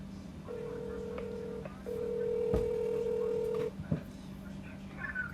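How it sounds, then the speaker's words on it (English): A telephone dials a number, with a steady tone broken by a few longer beeps and a couple of clicks, heard fairly faint indoors without talking. "dial a number here"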